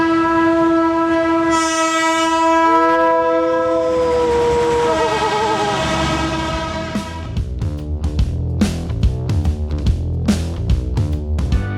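A loud train horn blares, then the train rumbles past close by in Solo, Indonesia, with rhythmic clattering of wheels over rail joints.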